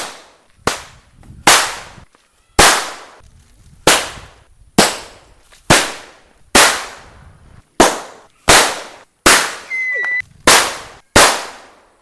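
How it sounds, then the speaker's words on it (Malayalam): Red Bijili firecrackers set off for Vishu, about eleven sharp, loud bangs in an irregular series, each with a short decaying tail, with no talk. "നമ്മളടുത്തായിട്ട് INൻ്റെ റെഡ് ബിജിലി ക്രാക്കേഴ്സ് ടെസ്റ്റ് ചെയ്യാൻ പോവാണ്"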